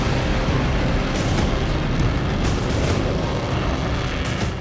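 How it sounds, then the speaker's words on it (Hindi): British Air Force fighter jets fly overhead with a loud, continuous roaring rush of engine noise that fills the whole stretch without letup. "ब्रिटिश एयरफोर्स के फाइटर जेट्स लगातार बाल्टिक की निगरानी कर रहे हैं।"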